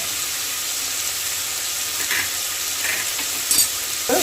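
Tomatoes and onions sauté in a pan with a pinch of salt for a prawn kuzhambu, giving a steady, close frying hiss with a few brief louder spits and stirring sounds.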